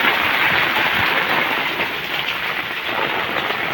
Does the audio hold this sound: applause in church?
no